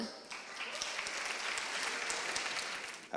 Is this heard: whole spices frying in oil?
no